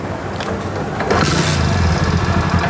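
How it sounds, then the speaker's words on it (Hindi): A Honda CD100 motorcycle engine cranks and catches, then settles into a loud, steady running rumble up close. "मोटरसाइकिल हमारा यहाँ पे स्टार्ट हो चुका है"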